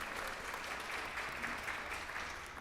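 Audience applause at a state senate human services hearing: a steady, dense wash of clapping from a roomful of people, heard at a moderate distance and sustained evenly without talk.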